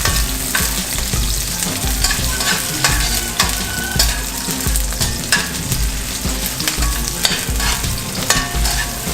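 Chopped onion sizzles steadily in a hot pan while a utensil stirs and scrapes through it, a dense continuous frying hiss with small clicks, close and fairly loud, no talking.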